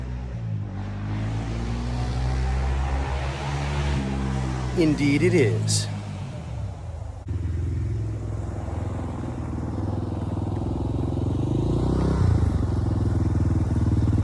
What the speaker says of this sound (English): he's taking the quad out for a spin